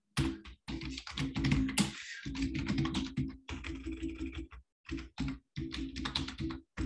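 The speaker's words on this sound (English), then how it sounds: "I'm just going to type the wrong password in a few times" Rapid typing on a computer keyboard as a wrong password is entered, close and distinct clacking keystrokes in quick bursts with brief pauses.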